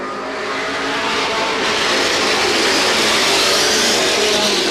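A pack of race cars roars away under green flag at the start of a Star Speedway race, a loud continuous engine wash that swells steadily as the field accelerates.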